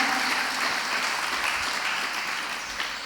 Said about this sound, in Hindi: तालियां बजा के उनका स्वागत करें।